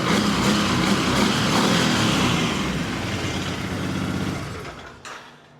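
A 2006 Can-Am Outlander 800 ATV engine runs steadily at close range with a constant mechanical drone, easing slightly before cutting off near the end.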